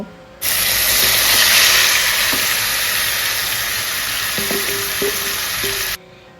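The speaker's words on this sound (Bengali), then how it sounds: "তেলের মধ্যে আলু আর দুটো গোটা রসুন দিয়ে দু তিন মিনিট মতন ভাজা করে নেব" Potatoes and two whole garlic cloves fry in hot oil in a wok, with whole garam masala and bay leaf, giving a loud, steady close sizzle that starts abruptly, runs for several seconds with a few faint clinks, then cuts off.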